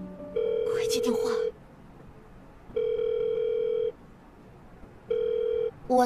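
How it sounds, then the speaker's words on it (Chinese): A phone rings in repeated long tones with pauses between them, moderately loud in a dinner setting, with a brief burst of other sound over the first ring. "快接电话。"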